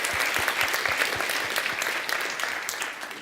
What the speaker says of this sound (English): So first, a big applause.